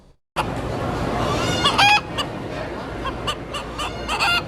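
A rooster crows loudly at a crowing competition at the Missouri State Fair, over a busy background of clucking fowl, with a couple of sharp, rising calls standing out near the middle.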